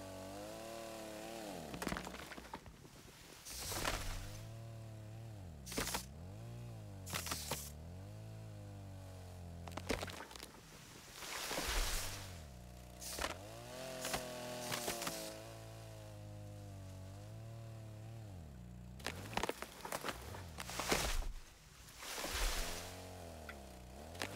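A chainsaw cuts down trees in the survival game Rust, its engine revving up and down in repeated bursts with pitch sweeps as each cut bites, fairly close and without any talk.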